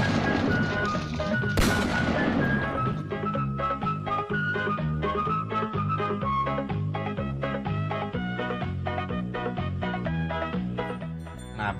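Rapid bursts of gunfire at a demonstration, loud repeated sharp shots in an irregular stream over a dense background din, with no talking.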